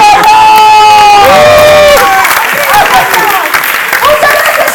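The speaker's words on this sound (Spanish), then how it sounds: "¡Un aplauso para Sandra!" A live improv theatre audience applauds and cheers, steady loud clapping mixed with whoops, while a host's amplified voice rings over the crowd.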